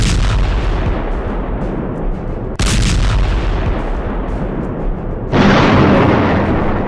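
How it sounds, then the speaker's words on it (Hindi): Israeli bombing in Gaza: dense, loud rumbling blasts and crackling bursts roll continuously, with a sharp new detonation roughly midway and another heavy surge near the end, no voices over it. "गाजा पर हो रही इजरायल की दिन रात बमबारी और धमाके"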